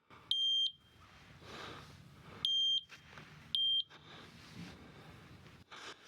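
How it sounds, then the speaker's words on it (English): A sawmill's proximity warning beeps three times as the operator nears the mill head, sharp high electronic tones separated by pauses, heard close over quiet background noise. "Notice if I get too close to my mill head,"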